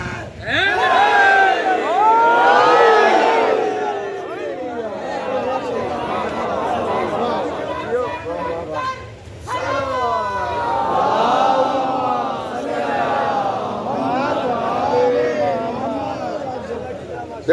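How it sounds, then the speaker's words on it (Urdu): A religious gathering's congregation shouts a slogan response at full strength, loud massed voices rising in repeated surging waves, a brief dip midway before another swell. "پوری طاقت سے نعرے کا جواب دے گا"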